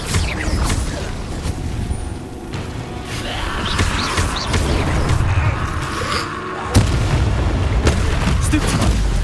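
Fire spell cast during Hogwarts Legacy combat: loud booming bursts and whooshing flame blasts over rumbling game action, one sharp impact standing out partway through.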